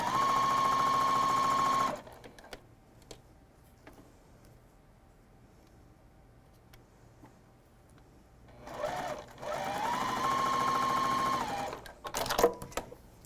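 A sewing machine chain-sews rows of jelly roll quilt pieces in two loud, steady whirring runs, one at the start and one near the end. A quiet gap with faint handling noise falls between them.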